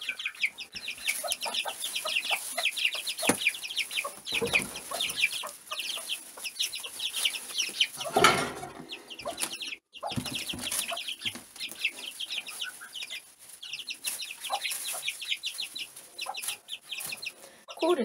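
Chickens cluck and chatter continuously nearby, several birds with busy overlapping calls and occasional louder squawks.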